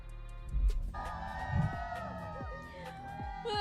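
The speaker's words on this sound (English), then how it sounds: "Oh, listen to that crowd." Crowd at a Valorant Champions Seoul watch party for PRX vs G2, cheering and whooping with a steady roar and rising shouts, heard under a broadcaster's talk.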